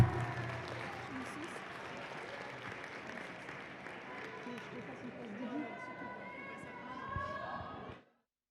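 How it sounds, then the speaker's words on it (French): A crowd at a roller derby event hosted by the Rennes club applauds in a sustained, fairly even wash of clapping with chatter and calls mixed in, then stops abruptly. "on applaudit très très fort le club Roller Derby Rennes qui nous accueille et tous ces bénévoles"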